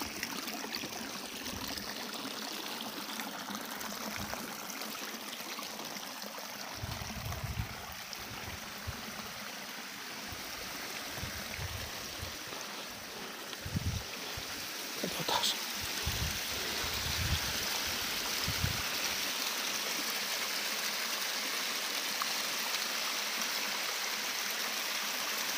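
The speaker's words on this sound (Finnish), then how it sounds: "No ei se tarvitse tämä enempää vettä, että siitä saadaan vesiputous aikaiseksi." A small waterfall in a forest stream in the Ylläs–Pallas area of Finnish Lapland, a steady close rushing and trickling wash of water that continues throughout, with some faint low thumps and rustles.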